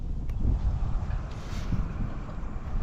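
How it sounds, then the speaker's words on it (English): Wind blowing hard across an outdoor microphone, a steady low rumbling roar that buffets without pause the whole time. "It's windy here."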